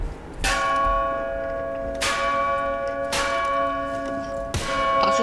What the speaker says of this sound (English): If you smack the bell, it makes a noise.